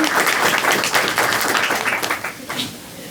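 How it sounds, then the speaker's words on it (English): An audience applauds presenters at a live event, a dense, steady burst of clapping that holds strong before thinning out toward the end. "Let's give them a round of applause"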